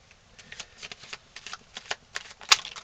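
Tarot cards shuffled by hand: a string of soft, quick riffling flicks with a sharper snap near the end, close and fairly quiet, with no talking.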